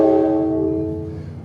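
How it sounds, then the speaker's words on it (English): A loud, sustained train horn blares nearby, a steady multi-tone chord holding for the whole stretch and fading only slightly toward the end, with a low rumble of the train beneath. "And somewhere nearby, there's also a train."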